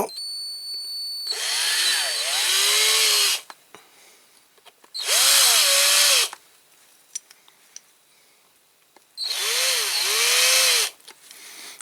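A small power drill with a slightly larger bit bores into a Corgi die-cast Massey Ferguson 65 model tractor wheel, whirring in three separate bursts of a few seconds each, close and loud, with quiet handling sounds between.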